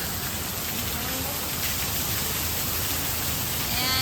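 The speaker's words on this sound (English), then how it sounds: "It's a torrential downpour. Like somebody's just emptying out a bucket." A torrential downpour roars as a dense, constant hiss of heavy rain drumming on surfaces at a fairground, steady and close with no pauses.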